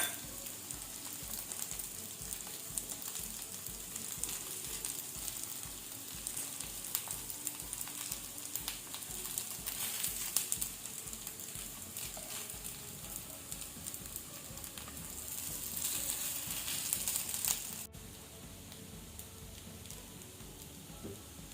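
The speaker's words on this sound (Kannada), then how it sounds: "ಈಗ ಇನ್ನೊಂದು ಸೈಡ್ ಸಹ ನಾವು ಫ್ರೈ ಮಾಡಬೇಕು." Colocasia leaf rolls (pathrode) fry in oil in a pan, a steady close crackling sizzle that runs evenly throughout, then thins out toward the end.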